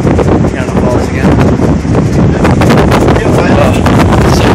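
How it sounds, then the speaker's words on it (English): Strong wind roars and buffets the microphone atop the Skylon Tower above Niagara Falls, a loud, continuous rumbling gust throughout, with a voice faintly present under it. "Oh, it's so windy up here."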